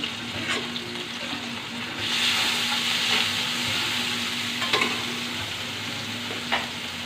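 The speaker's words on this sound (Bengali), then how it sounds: "এখন পেঁয়াজ দিয়ে দিব লবণ দিয়ে দিলাম" Onion and salt sizzling in a pan for an eggplant fry, a continuous close frying hiss with a louder surge after two seconds and a few light utensil clicks.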